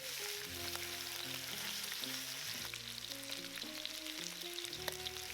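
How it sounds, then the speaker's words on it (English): Beef short ribs brown in extra light olive oil in a pot over high heat, giving a steady, continuous sizzle with background music playing over it. "Transfer in the beef short ribs. Cook until browned for about 6 minutes."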